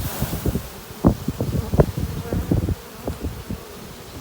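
Bees swarm at an apiary during a Ukrainian honey harvest, giving a dense, close buzzing with individual bees darting past the microphone, over light wind and rustling.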